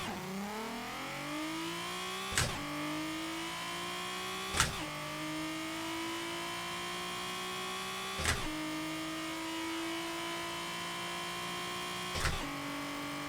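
A racing-simulator car engine in a video game revving steadily during a launch, a continuous loud drone rising gradually in pitch, broken by four sharp shift-like clicks spaced a few seconds apart, no voices.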